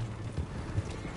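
Horse hooves clip-clop in Red Dead Redemption 2, a quick, steady trot close by under a dense wash of game ambience.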